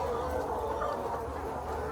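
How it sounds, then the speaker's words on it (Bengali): Layer hens in a poultry farm shed cluck and murmur in a dense, continuous chorus, close and fairly loud, with no pauses. "এই যে দেখেন মুরগি আমি আপনাদেরকে দেখাই"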